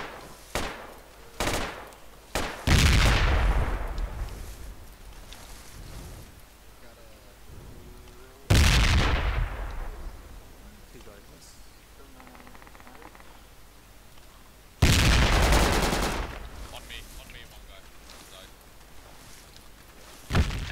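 Gunfire in the Project Reality 1.5 military shooter on the Iron Ridge map: three loud, sharp bursts of close rifle fire, each decaying into echo, with quieter distant shots and occasional voices between them.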